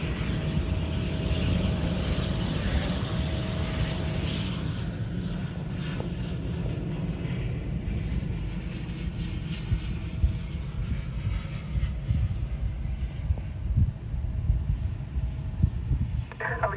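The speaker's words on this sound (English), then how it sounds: "ATR Landing" An ATR turboprop airliner lands at Fort Lauderdale, its engine drone and propeller roar steady and broad throughout, slowly easing toward the end, heard from outdoors near the runway.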